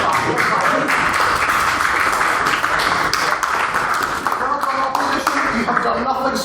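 Debate audience clapping fills the room in a dense, steady patter lasting several seconds, with voices talking over it.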